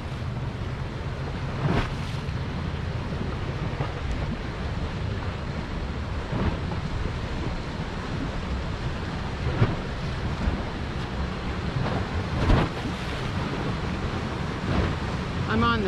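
Ocean waves break at the Boynton Beach inlet, a constant rumbling wash of surf mixed with wind buffeting the microphone, with occasional louder gusts and no clear talk.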